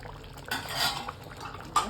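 A spoon stirs palak paneer rice in a pressure cooker, scraping and clinking against the metal pot in a few quick strokes, with a sharper knock near the end.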